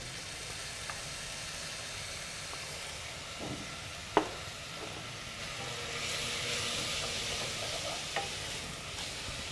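Soaked lentils fry in a pan with a constant low sizzle, stirred now and then with a few soft knocks and one sharp utensil tap, no voices.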